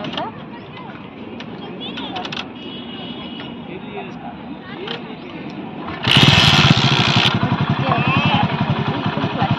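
A motorcycle engine idling and then revving louder as the clutch is pulled and the gear is changed, a steady close drone that jumps up sharply partway through, with someone talking over it.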